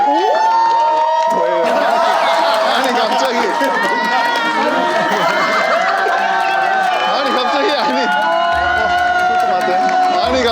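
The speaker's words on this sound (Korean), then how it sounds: "최다니엘님 박수로 한번 모셔볼 수 있을까요?" A studio audience applauds and cheers as guest Choi Daniel is welcomed onto a Korean variety set, with a steady, loud wash of clapping and whoops running under overlapping voices the whole time.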